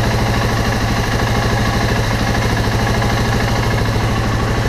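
A Husqvarna TR650 motorcycle engine idles steadily and loudly up close, a continuous rhythmic mechanical thrum with no talking.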